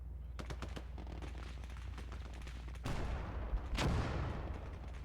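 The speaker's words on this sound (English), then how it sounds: "I'm even going to start lobbing some HE shells on my side of the ruins here" High-explosive shells are fired in the World War II tank game Gates of Hell: Ostfront: a run of sharp gunfire-like cracks, then two heavier broadband blasts rumbling at moderate loudness over low engine drone.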